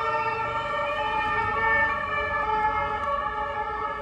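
An emergency vehicle siren sounds loudly through a city street, a sustained wailing tone over the rumble of road traffic, close and steady throughout.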